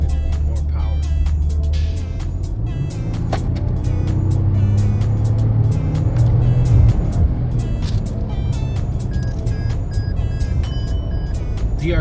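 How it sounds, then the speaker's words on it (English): A 2022 Toyota Tundra TRD turbo engine fitted with a new air filter revs for about twelve seconds, a loud, steady, low rumble that swells slightly near the middle. "You can hear the motor opening up, turbo, and definitely"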